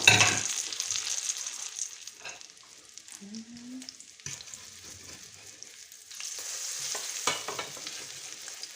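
Battered parasol mushrooms crackle in hot oil over low heat, a close sizzling that ebbs in the middle and swells again later, with a couple of scraping and clinking touches and no speech.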